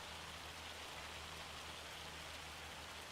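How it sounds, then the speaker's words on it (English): Hail pelting down steadily in Farming Simulator 25, a dense, even hiss of countless small impacts with no pauses, moderately quiet and unbroken by speech. "That's not rain. That's hail."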